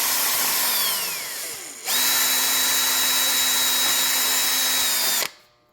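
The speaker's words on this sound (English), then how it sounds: "I'm not going to drill a whole lot of holes yet." A power drill with a 332 drill bit winds down, then revs up again and whines at a steady pitch as it bores into wood on a canoe, stopping abruptly near the end.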